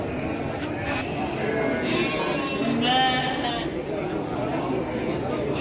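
Sheep bleat among the bustle of a Garut livestock market, with one clear wavering bleat standing out mid-clip over a crowd of chattering voices and general market noise.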